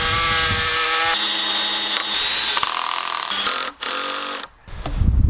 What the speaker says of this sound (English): I'm going to drill pilot holes all the way down on both sides